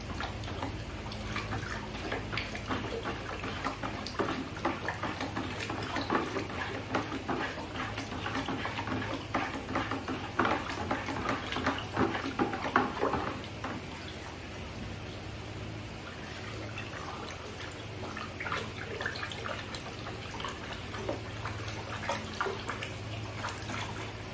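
Water pours steadily into a container while homemade fabric conditioner is mixed, a continuous close splashing and trickling that eases slightly partway through and carries on alone.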